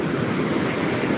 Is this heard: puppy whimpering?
no